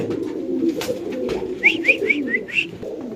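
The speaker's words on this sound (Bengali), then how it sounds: "এক জোড়া কবুতর আপনি দেখতে পাচ্ছেন" A pair of pigeons at a pigeon seller's, giving low, soft coos over a murmuring background, followed by a quick run of five brighter chirping calls close by.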